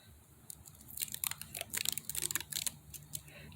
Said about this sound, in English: So these, you just peel back one circle.